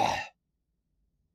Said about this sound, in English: that was one heck of a cough